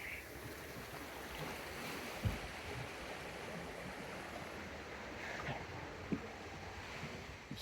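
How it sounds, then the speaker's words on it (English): Waves of an incoming tide wash steadily onto a beach near a harbor on Nusa Penida, a faint, continuous surf rush with light wind noise. "Yep, tide's coming in."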